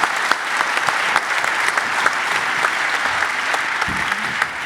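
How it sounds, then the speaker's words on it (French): An audience applauding at a film festival closing ceremony, loud sustained clapping from a large crowd with occasional sharp individual claps and a faint voice near the end. "Vous pouvez l'applaudir."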